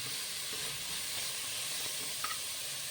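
Sliced onions sizzle in hot oil for Malabar chicken biriyani, a steady, even hiss with one small clink near the end.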